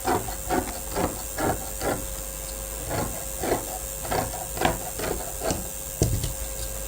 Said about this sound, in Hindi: अब ये वाली जो मार्किंग है हमारी, इसके ऊपर इस तरह से कटिंग कर लेनी है हमने।